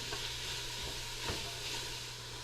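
Onions, carrots and celery in olive oil at the bottom of a big soup pot, a quiet, steady sizzle and hiss with a couple of faint clinks, no talking.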